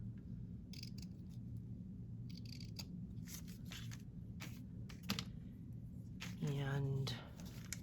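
Scissors cutting paper for journal snippets, a few quick crisp snips and rustles at close range under a low background hum, with a person talking over part of it.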